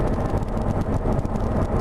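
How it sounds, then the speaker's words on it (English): A C7 Corvette with an NPP exhaust running in 4-cylinder mode gives a steady, low, smooth rumble from the exhaust exit, even and moderately loud for under two seconds, with no voices. "in 4-cylinder mode, and I was surprised that at the exhaust exit it doesn't sound bad"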